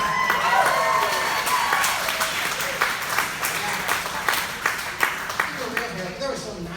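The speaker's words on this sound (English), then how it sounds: "Can we give a round of applause for some of the heroes on there?" Audience applause and cheering break out in a crowd, dense and steady at first, then thinning into scattered claps, with voices mixed in throughout.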